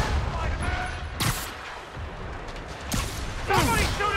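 Rocket fire in Marvel's Spider-Man Remastered comes as sharp blasts, the first at about a second and another near three seconds, over a steady rumble of battle noise, with voices talking over the din.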